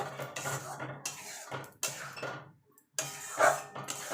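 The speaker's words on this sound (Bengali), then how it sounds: "এবার ভালো করে মিশিয়ে নেব" A spoon mixing chicken with strained yogurt in a metal pot, giving irregular scraping clinks against the pot with short pauses between strokes, close and fairly clear, without speech.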